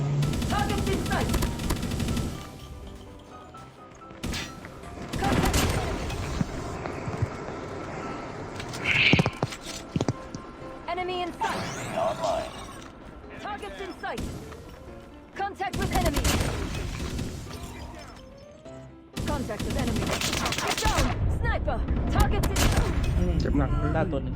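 Gunfire in the mobile shooter Call of Duty Mobile during a ranked team match, with repeated bursts of automatic fire and sharp shots in several loud clusters, heard alongside player chatter and game sounds.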